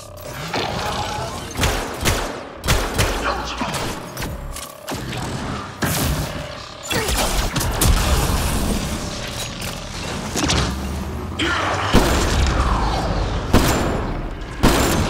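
Combat in Mass Effect Andromeda against an Ascendant, with dense bursts of gunfire, thuds and explosions hitting repeatedly in loud, irregular clusters, sometimes with brief lulls.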